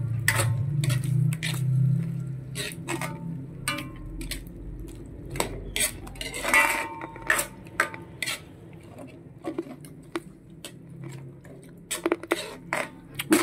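Metal utensils clink and scrape in a pan while chicharon is stirred into a thick annatto-colored pancit luglog sauce, giving sharp irregular taps and clatters over a low background hum, near and fairly loud, with no talking.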